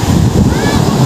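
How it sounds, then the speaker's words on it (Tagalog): Sea waves at Lingayen Beach in Pangasinan wash in at dusk as a loud, steady rush of surf mixed with wind buffeting the microphone, with nothing else standing out in the brief moment. "tunog ng sea waves"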